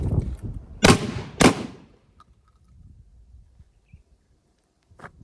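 Two loud, close shotgun blasts about half a second apart, fired fast under stress during a speed-reload drill, followed by quiet handling noise and a faint click near the end.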